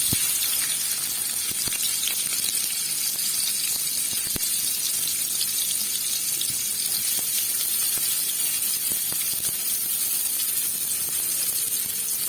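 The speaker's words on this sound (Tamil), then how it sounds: "கொஞ்சம் எண்ணெய் ஊற்றிட்டு வெங்காயம் போட்டுக்கோங்க." Onions sizzling in hot oil for beetroot kuzhambu, a steady, loud hiss with crackling pops and occasional sharp ticks throughout, no talking.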